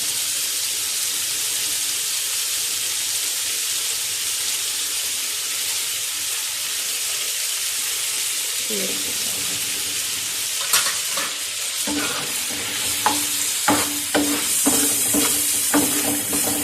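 Chicken or goat liver (kaleji) frying in ghee on a tawa sizzles steadily and loudly, with half a lemon squeezed over it. Scraping stirs and utensil clicks join toward the end.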